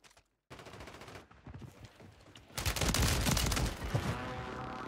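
Shotgun fire in Warzone on Rebirth Island comes as a dense run of loud, rapid blasts that builds into a sustained, heavy barrage of gunfire, close and continuous, with no voices.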